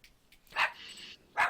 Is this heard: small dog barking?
yes